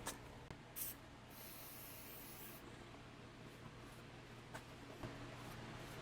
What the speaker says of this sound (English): A little bit of brake clean on this, and then we'll just wipe it.